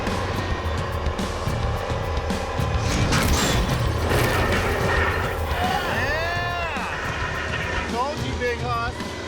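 Robosaurus, a giant car-eating robot, lifts a car with a loud mechanical grinding and crunching of metal, followed by high metallic creaks and squeals, while people talk over it.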